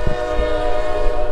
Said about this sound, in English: there's you another train right there